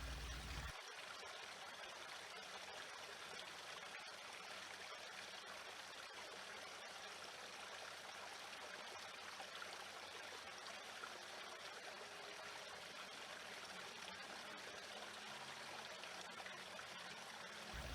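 River water flows steadily throughout, a dense, even rushing and trickling wash with no breaks, moderately close and alone without voices.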